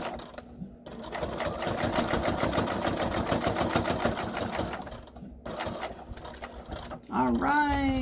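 A sewing machine top-stitches down seams in a long, fast, even run of rapid needle strokes, pausing briefly before a final burst, with a voice starting near the end.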